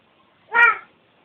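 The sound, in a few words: cat meowing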